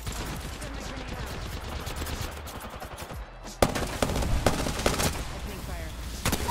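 Rapid automatic gunfire in Apex Legends, dense repeated shots rattling continuously and growing louder and sharper in the second half, with faint voices under the shooting.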